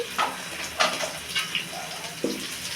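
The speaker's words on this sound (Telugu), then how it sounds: "బాగా వేంపుకోవాలండి" Green chillies fry in a hot pan with oil, giving a crackling sizzle punctuated by several sharp spits and stirring scrapes, close and fairly loud.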